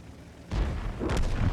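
A tank cannon fires in World of Tanks: one deep, heavy boom opens with a sudden blast, and a second rumbling burst follows about half a second later. The sound is moderately loud, with no voices.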